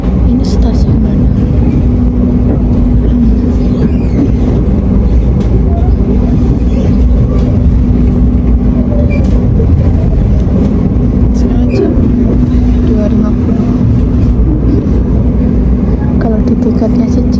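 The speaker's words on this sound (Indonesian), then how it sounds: "ini udah pelan banget keretanya" A passenger train on the Blitar–Jakarta line rumbles steadily from inside the carriage, a loud continuous low roar with a droning hum and faint rattles, with people talking over it.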